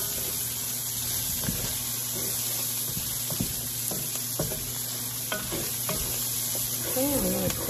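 Onions sautéing in baking grease in a pan for fried cabbage, giving a steady close sizzle with intermittent scrapes and clicks of a utensil stirring throughout, no talking.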